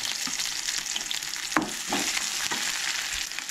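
Onion and garlic fry in hot oil for a Goan white peas curry, a close, steady sizzle and hiss. A few soft stirring knocks and scrapes break through it, with no talking.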